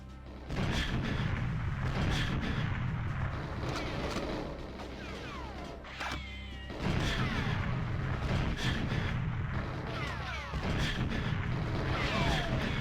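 Repeated grenade-launcher explosions in a video game fire in quick succession for boosting, heavy booming blasts with crashing debris, loud and continuous with brief pauses between bursts.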